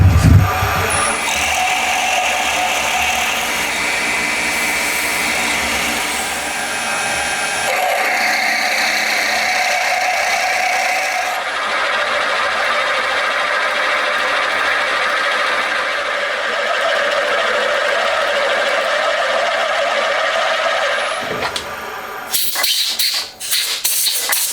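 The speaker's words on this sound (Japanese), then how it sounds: "ドリルで穴開けしていきます。" A drill boring a pilot hole in a part for extending the Z axis of a milling machine, a steady loud machining whir with grinding and scraping running nearly throughout, then a brief clattering burst at the end.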